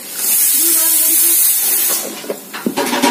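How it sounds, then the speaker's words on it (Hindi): Pressure cooker cooking khichdi, giving off a loud, steady steam hiss for about two seconds before it fades into clattering household noise. "प्रेशर कुकर पे खिचड़ी चल रही है"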